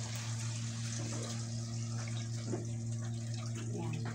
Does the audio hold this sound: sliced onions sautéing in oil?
no